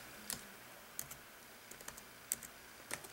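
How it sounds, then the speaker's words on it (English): Soft, sparse key clicks from typing on a computer keyboard, a handful of quiet taps spaced irregularly against a faint background hum. "I'll just type in eggs"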